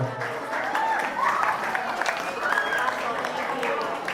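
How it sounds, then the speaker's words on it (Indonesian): Applause for Bu Lila at a school technical meeting in a Yogyakarta junior high, a few seconds of dense clapping from a crowd of students and staff, with voices murmuring underneath. "beri aplaus sekali lagi untuk Bu Lila ya"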